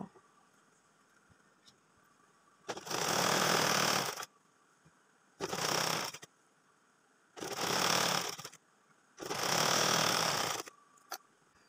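A sewing machine stitches the side seam of a child's pants in four steady runs of a few seconds each, close by, with quiet gaps and no talking.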